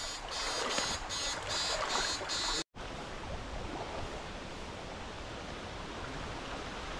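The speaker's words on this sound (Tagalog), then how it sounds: "Lakas ang ulanin, no?" Heavy rain falls outdoors as a dense, steady roar with no break except one momentary dropout.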